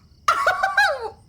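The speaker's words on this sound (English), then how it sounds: "The rooster already crowed." A rooster in a video game gives a single short, loud crow-like call, rising then falling over about a second, heard alone against a quiet background.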